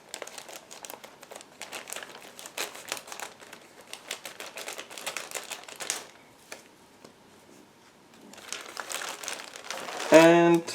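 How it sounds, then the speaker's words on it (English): Large plastic bag holding smaller bagged parts of a 1/72 ARK Models Mi-8 MTV-2 helicopter kit being opened close up, with bursts of crinkling and rustling, a quiet pause, then renewed crackling and a louder handling noise at the end. "Next we have big plastic bag with small ones inside. So again, I need a second to open it."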